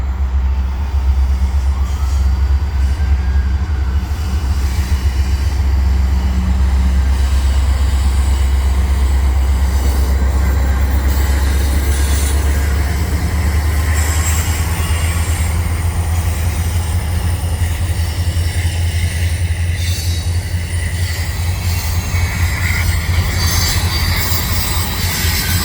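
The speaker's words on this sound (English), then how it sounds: "Yeah, it's a CN freight." A CN freight train hauled by five engines rolls westbound through a curve, a steady loud rumble of heavy wheels and cars with faint flange squeal, continuous and close throughout with no talk.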